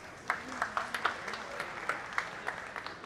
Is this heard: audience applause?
yes